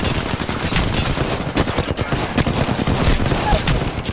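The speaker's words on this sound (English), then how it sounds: "Who just shot me?" Rapid automatic gunfire crackles nonstop in a first-person shooter video game, loud bursts of shots overlapping and layering into a dense fusillade.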